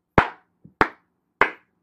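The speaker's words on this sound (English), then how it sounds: "Don't be clapping." Three sharp, distinct claps from an animated character, evenly spaced about half a second apart with a faint softer tap in between, close and isolated against silence.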